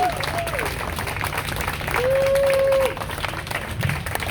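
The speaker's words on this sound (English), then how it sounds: "Let's have one more round of applause for all of our amazing storytellers." An audience at a storytelling event applauds the storytellers, with sustained clapping mixed with a couple of drawn-out whistles or whoops and some crowd voices rising through the din.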